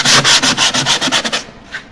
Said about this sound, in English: So the final step is some sandpaper